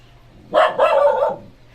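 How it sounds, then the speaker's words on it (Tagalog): A pet dog lets out one short, sharp bark that breaks into two quick bursts, close and fairly loud in a quiet room. "Huwag na tumahol."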